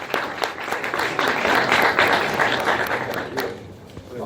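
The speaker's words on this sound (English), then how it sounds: "let's give a round of applause to Councilmember Smitherman." An audience applauds a city councilmember at City Hall during an African American Chamber of Commerce Day event, a crowd of hands clapping at moderate volume that rises and gradually tapers.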